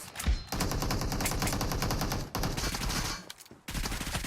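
Rapid automatic gunfire in the battle royale game PUBG during a team deathmatch, dense continuous bursts of shots with a brief gap midway, loud and close, no talk over it.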